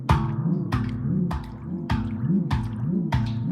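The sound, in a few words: handpan played with hand covering its bottom hole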